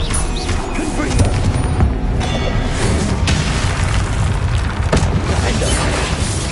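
Confringo blasting spells explode in Hogwarts Legacy amid combat, a dense run of loud booming blasts and crashes over several seconds, with voice talking over the noise.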